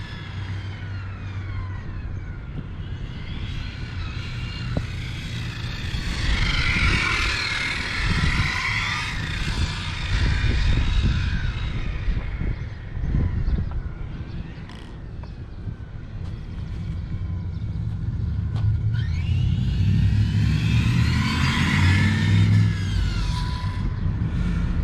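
A Hobao Hyper GTB long-wheelbase RC buggy engine warms up in an industrial area, its high nitro buzz rising and falling through several revving swells over a steady low idle rumble, close and continuous.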